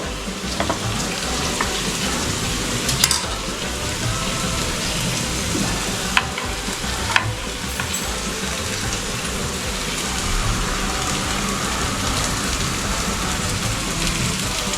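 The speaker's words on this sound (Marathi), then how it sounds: "थोडं परतवून झाल्यानंतर मग आपण कांदा आणि शिमला मिरची टाकणार" Onion and capsicum fry with pork chilli in a hot pan, giving a continuous, fairly loud sizzle with occasional sharp crackles and pops throughout.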